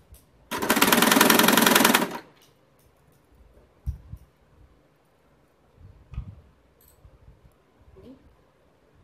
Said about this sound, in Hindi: कपड़ा और चेन को साथ साथ से सिलना है।